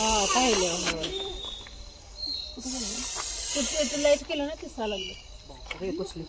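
A snake hisses in warning at people nearby, long breathy hisses like a pressure-cooker whistle rising and fading under steady talking and the chirp of insects.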